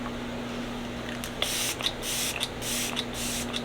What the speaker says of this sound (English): I'm just gonna spray. It's just gonna be like a mist.